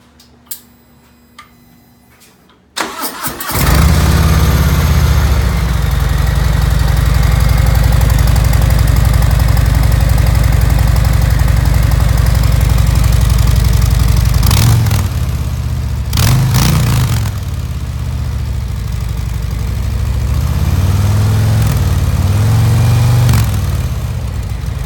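A 2018 Harley-Davidson Softail Deluxe fitted with Cobra Neighbor Hater slip-on mufflers fires up after a few quiet seconds and settles into a loud, deep, lumpy idle close by, with a few brief throttle blips in the middle and near the end.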